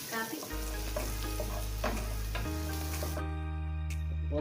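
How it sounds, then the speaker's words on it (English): Sliced garlic sautés in hot oil, a close, steady sizzle and crackle with light stirring scrapes, under a continuous background tone. "to which I will be adding 10 cloves of garlic sliced. Saute this really well. Saute till it's nice and brown."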